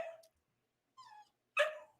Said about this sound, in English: forgive my dog who wants to get out